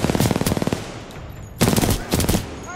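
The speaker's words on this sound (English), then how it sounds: "Oh god, no, that's a turret." Automated turret in Titanfall 2 firing two loud bursts of rapid gunfire: a long rattling stream of shots, a pause, then a second burst that breaks into short clusters.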